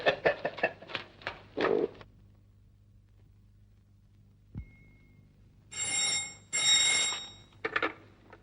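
An alarm clock in a 1952 Hindi film rings in quick bursts of sharp, rattling pulses, then falls silent, then comes back as a few louder, bright rings.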